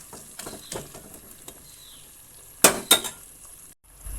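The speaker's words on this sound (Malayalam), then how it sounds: "നമ്മൾ ജസ്റ്റ് ഒന്ന് ഇളക്കി കൊടുക്കും" A spoon stirs seasoning in a metal pot for Mandi rice: a few light scrapes and clinks, then two sharper metallic knocks close together, with quiet pauses between.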